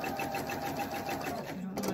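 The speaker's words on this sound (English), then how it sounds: "make sure you sew a quarter of an inch" A sewing machine running steadily while sewing a quarter-inch seam for a kids' craft, with a fast, even mechanical chatter throughout and a faint voice beneath.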